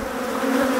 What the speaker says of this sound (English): A lot of bees down here